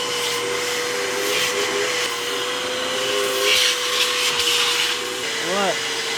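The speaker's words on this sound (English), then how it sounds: "He's just doing a quick vacuum" Continuous whining drone of a vacuum cleaner running steadily nearby as it cleans a car interior, with a brief shift in pitch near the end.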